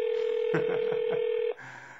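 A steady telephone tone with a quick series of dialing beeps, then the tone cuts to a different, softer line signal.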